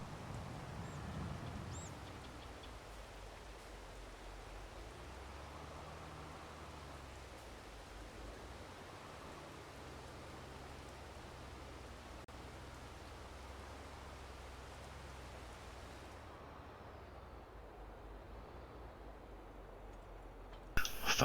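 Steady rain pours in Farm Sim 22, a continuous even hiss holding at moderate level before it drops away near the end.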